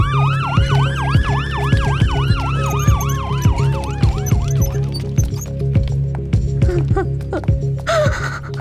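An ambulance siren wails in rising and falling sweeps, loud and close, alongside a steady vehicle hum and repeated sharp knocks, in a tense street scene from a Tamil film.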